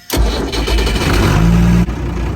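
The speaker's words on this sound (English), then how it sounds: "what I'm going to do now is have Pete start the engine" A boat's inboard engine cranks and catches, then settles into a loud, steady low idle, close by with no talk over it.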